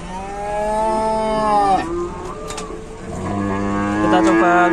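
A Malbor cow moos loudly and close, one long low bellow that bends downward and then a second rising call, with rumbling noise underneath.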